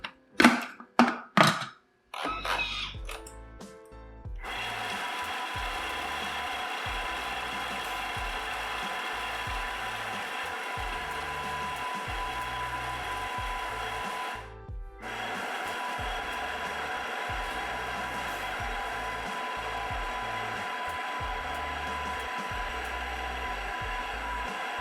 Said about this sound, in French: Je vais continuer en fait à mixer